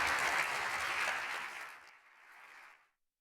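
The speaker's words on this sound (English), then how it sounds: "please do join me in a round of applause" Conference audience applause, moderately loud clapping that thins out and fades away to silence after a few seconds.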